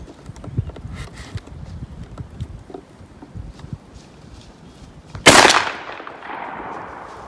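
A single loud, close 12 gauge shotgun blast fires a 3-inch buckshot reload at an outdoor range, then a short decaying echo, after quieter shuffling and handling noise.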